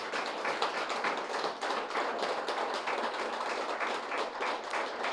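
An audience at a pyramid meditation centre's eighth anniversary gathering claps loudly and steadily, a dense, continuous wash of many hands with no voices over it.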